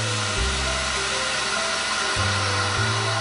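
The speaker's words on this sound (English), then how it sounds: "degas the mixture. This is something else you do with a vacuum machine." A vacuum machine degassing a crème anglaise mixture gives a steady, close electric motor whir with a low hum that dips briefly and resumes, heard alone.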